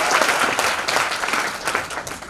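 An audience at a motivational business seminar breaks into loud, dense applause, a continuous roar of many hands clapping close by and filling the whole moment.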